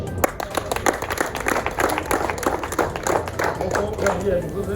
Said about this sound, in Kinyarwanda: abana tubaha amashyi cyane